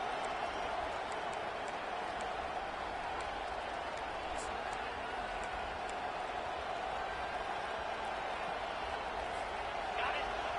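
Steady, dense roar of a stadium crowd in the College Football 25 video game, a TCU versus Ohio State matchup at first and goal, with broadband cheering holding at an even level throughout and a commentator's voice running over it.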